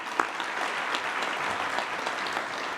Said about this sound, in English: how about a round of applause for her nonetheless?